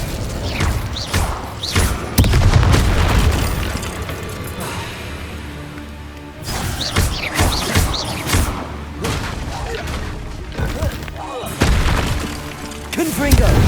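Confringo blasting spells exploding in the video game Hogwarts Legacy, repeated deep booms and crashing impacts in clusters, with a quieter stretch in the middle and a voice speaking between the blasts.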